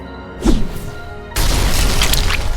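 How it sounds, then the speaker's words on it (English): A harpoon bursts through a car windshield with a sharp crash of shattering glass, preceded by a brief thud, then a dense, loud wash of breaking and scattering glass fills the rest. "amidst the unmistakable sound of shattering glass"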